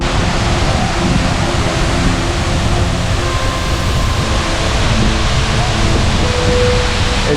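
Wailua Falls on Maui's Road to Hana pours in a steady, loud, broadband rush of falling water that holds unbroken throughout, with no voices over it.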